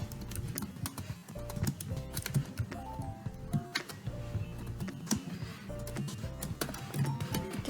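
Someone types on a computer keyboard, producing a continuous patter of quick, close key clicks with small pauses, at moderate loudness and with no voices.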